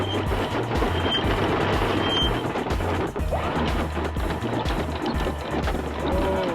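A sailboat's anchor windlass motor, just refitted with new brushes, runs steadily and loudly with a continuous droning whir and pulsing low hum, apparently under load with clanks in the background.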